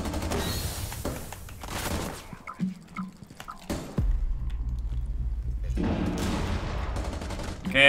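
Heavy shotgun blasts in the tactical shooter Rainbow Six Siege, a few sharp booming reports among scattered impacts, with excited Spanish-speaking voices talking around the shots.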